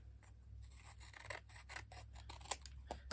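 Scissors snip paper while making pocket tags, with a quick series of close, crisp cuts and rustles over a low hum.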